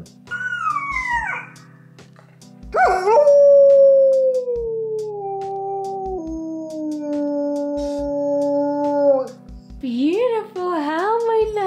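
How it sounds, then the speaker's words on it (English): Near and loud, a German Shepherd howls in long, drawn-out wails that slide downward, broken by brief yips and a final rising cry, over a faint background hum. "You ready? You ready to howl for them?"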